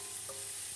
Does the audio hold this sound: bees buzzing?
no